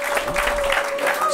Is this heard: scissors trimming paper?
no